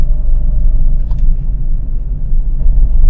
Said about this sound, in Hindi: इंजन वाइब्रेट कर रहा है, हिलने की आवाज आ रही है बॉडी से, बॉडी वाइब्रेट कर रही है